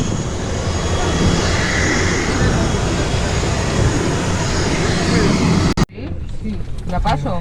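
A cabin of a propeller airplane in flight from Zanzibar to Arusha, with a loud, steady engine drone and roar filling the space, then an abrupt cut to a quieter scene with a voice talking.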